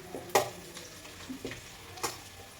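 Dry red chillies fry in hot oil, giving faint, quiet crackling with a few sharp spits and pops at irregular intervals and no voices.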